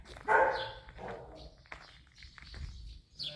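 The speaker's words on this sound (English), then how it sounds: "You can hear the dogs in the background." Dogs barking in a village on the Greek island of Evia, a short burst of barks early on followed by fainter distant yelps and background activity, with no talking.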